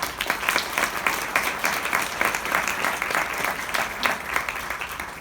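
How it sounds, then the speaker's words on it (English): Audience applause at a volunteer community event, a steady wash of many hands clapping close by at even strength throughout. "If we could give them a round of applause."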